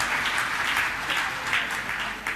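An audience at a religious discourse by a Jain monk claps together, a dense steady applause lasting a couple of seconds.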